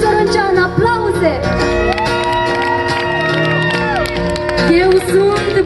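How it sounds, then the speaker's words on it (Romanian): Festival crowd at the TRIM Fest 2020 Rupți din Talpă folk show cheers and claps loudly and steadily throughout, with whoops and shouts, as lively folk music with sustained melodic lines plays over the top. "Aplauze!"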